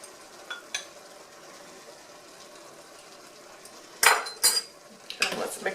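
Sloppy joe meat mixture being stirred after ground mustard goes in: a quiet stretch of faint low sizzle, then a few sharp, close utensil scrapes and clacks against the pan near the end.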